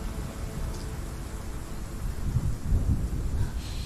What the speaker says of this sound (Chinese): 而且还在下雨